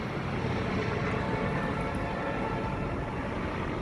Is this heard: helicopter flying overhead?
yes